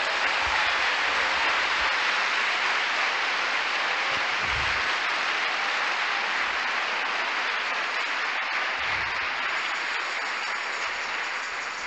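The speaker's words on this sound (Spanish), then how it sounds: "Si entendimos esto, le damos otro aplauso al Señor." A church congregation applauds together in a steady, sustained wash of hand claps lasting around twelve seconds, loud and even throughout.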